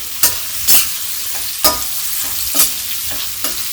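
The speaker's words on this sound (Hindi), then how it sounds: "अब इसमें हम डाल दे रहे हैं 1 टमाटर जो हम काट दिया छोटे छोटे टुकड़े में" Chopped tomato frying in a roasted spice masala for a spicy pumpkin curry, with several sharp scraping stirs of a spoon against the pan over a steady close sizzle.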